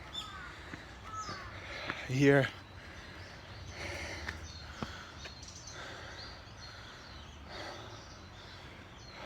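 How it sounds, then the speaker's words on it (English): Birds calling in Japanese mountain woods around abandoned houses, with one loud, harsh crow-like caw burst near the start standing out over faint background calls, while someone talks throughout. "You hear a lot of wildlife too, a lot of birds, I mean."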